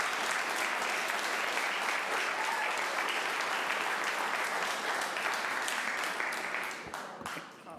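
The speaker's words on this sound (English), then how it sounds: "applause and booing is not encouraged" Audience applause at a Santa Rosa city council meeting: steady, dense clapping from a crowd filling the room, sustained for several seconds before thinning and tapering off at the end, with no voices over it.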